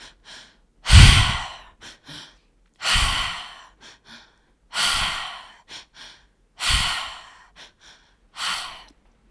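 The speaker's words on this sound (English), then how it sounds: "The breath pattern that we're going to use is the tri-active breath" Slow, deep tri-active breathing cycles, each a strong breathy inhale into belly and chest followed by a long audible exhale through the mouth, repeated about five times with brief pauses.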